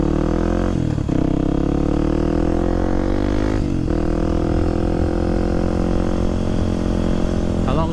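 A Kawasaki Z400 motorcycle riding through Chicago streets, its engine droning loud and steady with brief dips and shifts in pitch as the rider changes gears, carrying on continuously throughout.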